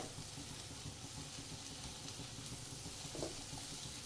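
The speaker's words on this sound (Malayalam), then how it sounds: "ഇനി ഇതൊന്ന് നമുക്ക് നന്നായിട്ടൊന്ന് ഇളക്കി കൊടുക്കാം." Ripe nendran bananas frying in ghee in a pan, a steady soft sizzle with faint scraping as the pieces are stirred, even and continuous throughout.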